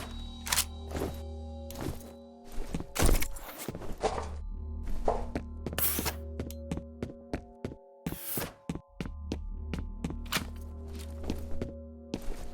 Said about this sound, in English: Dropping the rocket launcher is kind of loud.